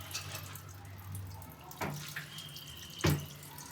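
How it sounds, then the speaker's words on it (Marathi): Water leaking from an open gap runs and trickles steadily nearby, with a couple of sharp clattering knocks partway through. "आता इथून ओपन आहे म्हणून हे पाणी इकडूनच येतं"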